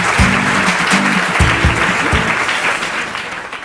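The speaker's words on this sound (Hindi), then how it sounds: "जोरदार तालियां हो जाए रुचि जी के लिए" A studio audience on a Hindi quiz show gives loud, sustained applause for a contestant named Ruchi, with a musical sting and bass hits sounding over the clapping.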